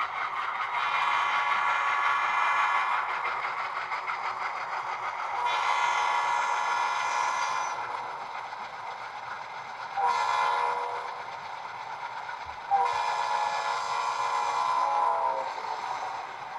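A Conrail model train sounds its Doppler horn, a series of sustained multi-tone horn blasts that bend downward in pitch as they sound, four distinct blows with short pauses and a low mechanical hum underneath.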